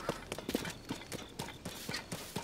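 Horse hooves clip-clopping in the video game Zelda: Tears of the Kingdom, a fairly close series of evenly spaced hoofbeats in a steady walking rhythm, without talking.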